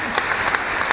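A short burst of steady clapping from an audience at a ceremony handing out appointment letters to nursing officers in Delhi hospitals, even and moderately loud throughout.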